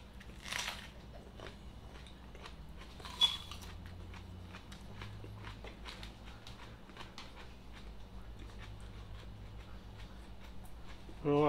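Someone chewing a whole raw onion: moist crunching bites and slow mastication, close and fairly quiet, with a sharper crunch early on and a louder noise at the very end.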